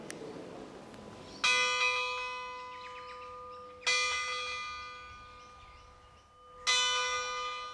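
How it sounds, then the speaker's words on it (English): A bronze bell is struck three times at slow, even intervals, each strike ringing out bright and clear with a long sustained, shimmering tone that decays before the next, heard alone and fairly close. "Bells are made of bronze because of the sustained notes it produces and its corrosion resistance."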